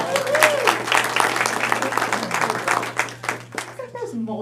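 Applause for Angie during a KWFA team meeting, a dense patter of claps from a small group with voices talking over and through it, tapering toward the end.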